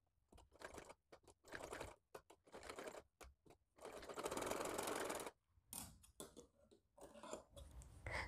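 A sewing machine stitches a small baby ear cap in short, quiet bursts of whirring, stopping and starting several times, with one longer run near the middle.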